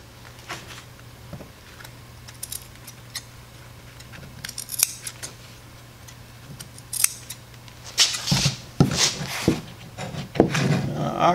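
Sharp scissors snip through boat cover fabric for a wakeboard tower, a series of crisp, close cuts spaced out and then coming quicker and louder near the end.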